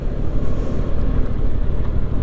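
A Yamaha Tracer 7 twin-cylinder motorcycle engine rumbles in a low, steady drone, close and fairly loud, with some wind noise and no talk.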